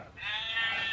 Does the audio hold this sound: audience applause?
no